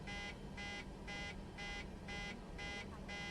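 Cockpit warning alarm on an airliner in Microsoft Flight Simulator 2024: a steady, repeating electronic beep pulsing about twice per second, loud and continuous over a constant background hum.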